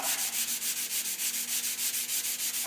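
Hand sanding a Ford Model A car body panel: steady, rhythmic back-and-forth scraping strokes, close and fairly loud, with no talking.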